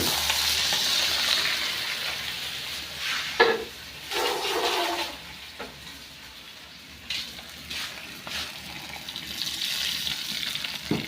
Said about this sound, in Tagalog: lagyan na po natin ang sabaw